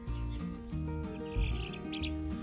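Five-week-old chicks peep and cheep in quick, thin, high calls over a steady low background hum, fairly faint and close, with no voices.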